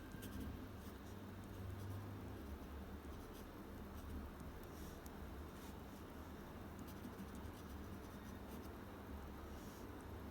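A pen traces cursive Chinese characters by hand, a faint continuous scratch on paper running steadily under a low background hum, with small ticks along the way and nobody speaking.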